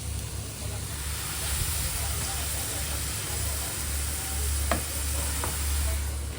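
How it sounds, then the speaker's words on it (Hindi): Parathas cooking in a pan in an Indian home kitchen, a steady low sizzle and frying hiss running throughout with a couple of faint clinks and a constant background hum. "फिर पराठे पका रही हूँ।"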